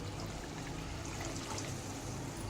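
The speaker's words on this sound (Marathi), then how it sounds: "त्यामध्ये आपल्याला काय करायचं आहे थोडंसं पाणी ॲड करून घ्यायचं" Water is poured into a ground spice paste, a soft, continuous trickle and splash heard close and alone at low level.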